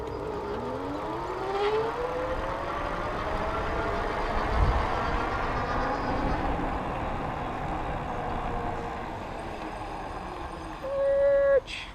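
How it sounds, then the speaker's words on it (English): The electric hub motor of a Big Cat Long Beach Cruiser e-bike whines under throttle, a rising tonal hum sweeping upward over several seconds amid road and wind noise, with a brief brake squeal near the end. "I'm gonna do a motor test real quick with you and just throttle it here"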